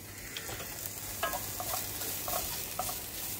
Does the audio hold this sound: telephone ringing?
no